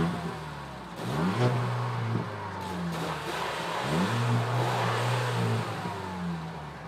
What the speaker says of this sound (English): Got some rev battles out here.